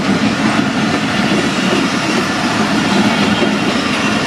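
The Awam Express passenger train rolls through Mando Dairo railway station, a loud, close, continuous rumble of wheels and wagons at steady strength throughout, with no talking.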